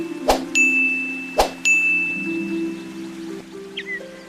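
A notification bell sound effect rings out twice in quick succession, each bright ding sharply struck and leaving a short ringing tail over a quiet background.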